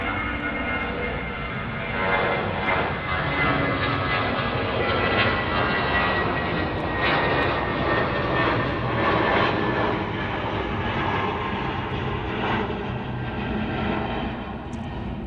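Airliners departing and arriving on parallel runways at Chicago O'Hare airport, a loud, sustained jet engine roar that swells and eases gently, without talk.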